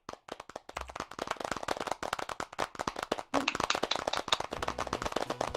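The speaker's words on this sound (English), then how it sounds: "And audience, why are you not clapping?" Audience clapping at a 2020 business awards ceremony, dense rapid claps that build and stay steady after a brief pause, filling the hall with close, lively applause.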